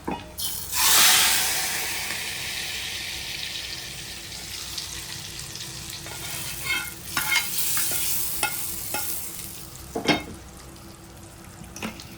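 Dal tempering with asafoetida sizzles loudly as it hits the pot, then settles into a steady frying hiss with intermittent stirring scrapes and clicks of a spoon, close up.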